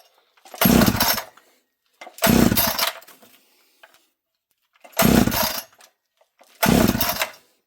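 Four separate bursts of a gas chainsaw being pull-started with no prime, each a loud, near sputtering rattle lasting about a second, with short silences in between.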